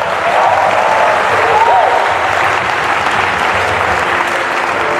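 A church congregation cheers and applauds for the Lord in steady, loud, dense clapping with crowd noise throughout, some voices shouting over the applause.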